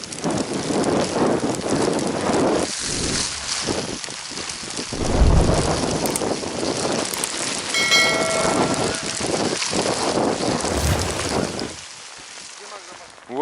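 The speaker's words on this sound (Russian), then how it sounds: "Ох, какой ветрюган валит. Моментально все накрыла такая буря." A strong wind and snowstorm sweep over an open goose-hunting spot, a loud, steady roar of gusts and driven precipitation with no breaks, and people talk briefly over it.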